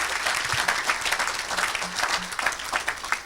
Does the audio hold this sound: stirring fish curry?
no